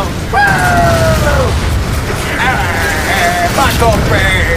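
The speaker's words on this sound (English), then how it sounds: "Michael Bay explosion!" A large in-game explosion in Halo 4, with a loud sustained rumble and blast under excited shouting voices and tonal game sounds.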